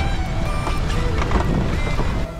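A sailboat driven hard by 25-knot wind through a Scottish sound, with a loud steady roar of wind across the microphone and rushing water around the hull.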